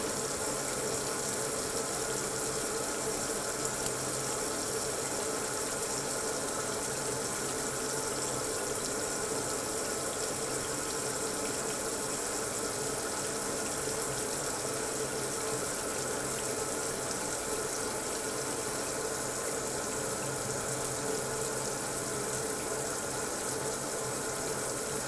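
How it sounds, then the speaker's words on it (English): Water runs steadily from a sink tap during surgical hand scrubbing, a constant close gushing hiss with no pauses. "Scrub the palm of your hands 10 strokes."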